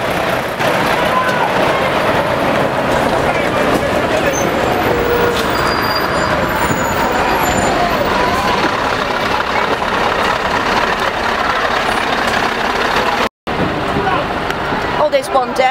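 Livestock trucks roll in at a live export protest, a continuous loud rumble of heavy engines and road noise filling the scene while a voice speaks over it.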